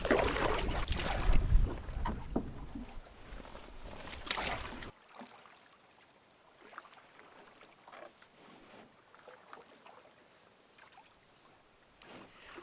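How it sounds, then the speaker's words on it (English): Cold wind blows outdoors in the wild near spruce trees, buffeting loudly and roughly for the first few seconds. It then drops to a softer, gusty rustle. "that wind is cutting right through me"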